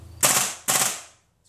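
A rifle with no muzzle device firing two rapid bursts, each a loud, sharp, crackling volley lasting about half a second, close by and outdoors.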